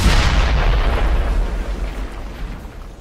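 Heavy gunfire and explosive blasts from the World War II shooter Brothers in Arms: Hell's Highway roar continuously, loud and close, then the dense rumble slowly fades out.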